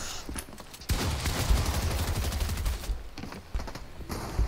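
Dense, rapid bursts of SMG fire in the Fortnite video game roll on continuously and loudly, with a short lull before the shooting resumes.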